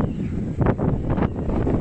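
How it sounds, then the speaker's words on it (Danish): Strong spring wind buffets the microphone outdoors in the cold, a steady low rumble broken by a few gusty surges with no other sounds. "Hør på den vinden."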